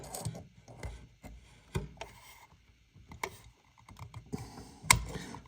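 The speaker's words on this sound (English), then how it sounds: "I'm trying to get the clips out from the side now." Plastic clips are pried off the PTO cover of a Drake T4XC radio, giving scattered small clicks, scrapes and snaps at close range, with one sharp pop near the end.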